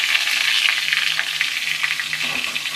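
Red amaranth stems are poured into hot oil with dried chillies, giving a steady, close, loud sizzle with crackling pops throughout.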